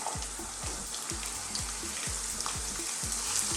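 White onion and garlic fry in a pan with a steady, close hiss, and regular low thumps suggest stirring or a pan knocking on the burner.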